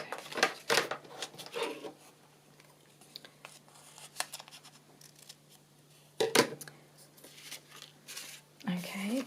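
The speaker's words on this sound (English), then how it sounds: "Scissors." Scissors cutting inked craft paper, with crisp snipping bursts at the start and again later, separated by a quieter stretch, close and moderately loud.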